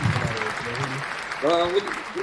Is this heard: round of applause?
yes